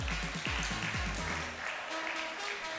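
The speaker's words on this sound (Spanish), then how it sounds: "Fuerte el aplauso, entonces" Applause from an awards gala audience, steady crowd clapping under booming music tones and a few stray vocal sounds.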